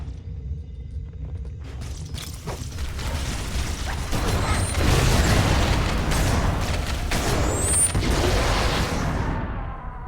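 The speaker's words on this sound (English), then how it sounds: "That was a very muted bomb." A grenade explodes in the video game Halo: Combat Evolved, a muffled, rolling boom swelling mid-clip over a steady rumble of game noise and mechanical clatter, quieter than usual and with no speech.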